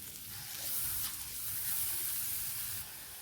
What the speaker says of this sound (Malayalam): ഇതിലേക്ക് ഉള്ളിയും വെളുത്തുള്ളിയും ഇഞ്ചിയും കൂടെ ചതച്ചത് ഇട്ട് കൊടുത്ത് നമുക്ക് ഒന്ന് വഴറ്റിയെടുക്കാം.